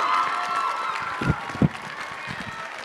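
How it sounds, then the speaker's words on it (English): An audience applauds dancers at a high school dance concert, a spread-out wash of clapping and cheering with a few louder thumps near the middle. "Let's give these dancers one more big, huge round of applause."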